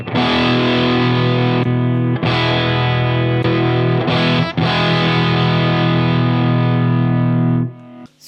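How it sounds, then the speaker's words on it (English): An electric guitar runs through a Rodenberg SL OD overdrive pedal in its low gain mode, giving a sustained, mildly driven tone with a few strummed chord changes, loud and close, fading out at the end. "Let's start with the mild overdrive, the low gain one."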